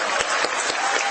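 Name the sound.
applause at ISRO headquarters after Chandrayaan-3 landing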